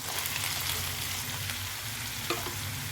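Cut cucumber pieces tipped into a hot pan for a dried-fish curry, sizzling steadily and close with a low hum beneath and a single clink of a utensil near the end.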